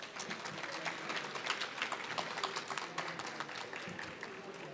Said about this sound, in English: Please warmly welcome Mr. Atsushi Mimura with a round of applause.